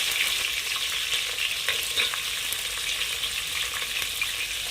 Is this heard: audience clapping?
no